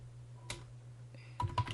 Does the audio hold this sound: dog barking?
no